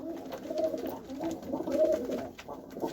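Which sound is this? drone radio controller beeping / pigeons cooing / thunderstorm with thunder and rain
pigeons cooing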